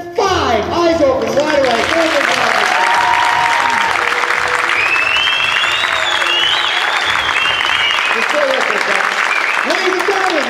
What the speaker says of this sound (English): The audience is going to give you one heck of a round of applause